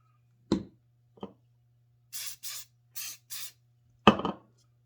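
Four short hissing bursts of accelerator spray hit super glue on a wooden ant model, close and crisp, between a few light taps and knocks of handling.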